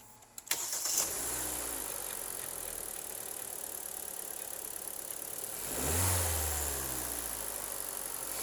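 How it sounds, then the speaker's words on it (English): A 2018 Hyundai Elantra SEL with 157,955 miles starts and settles into a steady, close idle, with a brief rev swell about two-thirds of the way through. "Engine run video."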